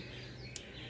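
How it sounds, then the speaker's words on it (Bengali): A baya weaver gives a single short, high chirp, fairly faint against a steady low background hum. "এই পাখিটার নাম কি গো কি সুন্দর ডাকছে এই"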